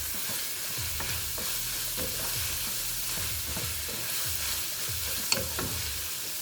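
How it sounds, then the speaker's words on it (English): Ground beef seasoned with salt and pepper frying in a pan for meat lasagna, a steady sizzle under rhythmic scraping strokes of a spoon stirring the meat, with one sharper clack near the end. "And I'm going to stir that around."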